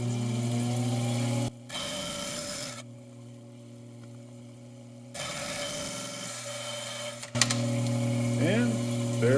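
A trim saw fitted with a 3D-printed adapter cuts in two harsh rasping bursts over a steady motor hum, with a quieter pause between them, running close and loud without speech.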